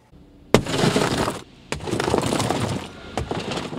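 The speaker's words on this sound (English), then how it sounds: "It's called a window punch tool that you can get at any auto store." Three sudden cracks from a window punch tool, each followed by a loud crunching shatter of car window glass that spills on for about a second, close by.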